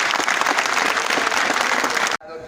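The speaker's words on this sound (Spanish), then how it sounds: "os pido un más fuerte aplauso" A crowd at a Falange political rally claps hard in a dense, loud ovation that stops abruptly near the end, leaving a brief quieter tail.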